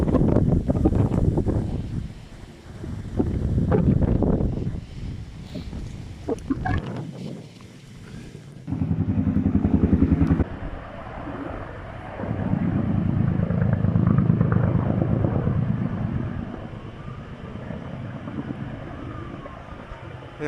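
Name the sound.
firefighting helicopter flying overhead carrying water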